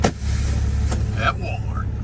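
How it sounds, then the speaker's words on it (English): A truck engine idles as it warms up in a line of vehicles waiting outside a Walmart. The low, steady rumble holds throughout, with a short brighter sound partway through. "truck's still warming up"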